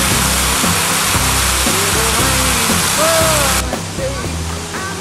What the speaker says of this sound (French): ça fait partie d'un ensemble de cascades du Hérisson